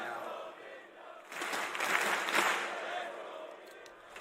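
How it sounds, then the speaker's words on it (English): An esports arena crowd at a CS:GO match, DreamHack Masters Stockholm 2018, swells into a rising roar of cheering, with casters talking over it. "the crowd getting into it"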